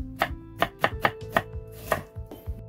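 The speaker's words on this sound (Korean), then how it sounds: "양배추도 대파 크기에 맞게 썰어주시고요" A knife chops cabbage and onion on a cutting board in about eight crisp, close strokes with uneven spacing, loud against a quiet kitchen and with no talking.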